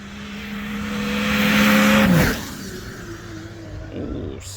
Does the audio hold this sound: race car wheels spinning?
yes